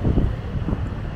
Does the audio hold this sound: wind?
yes